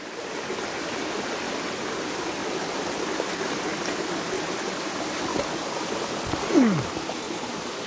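Creek water flows steadily through woods near old mine ruins, a soft continuous rushing wash with a faint splash and brief rising squeak near the end.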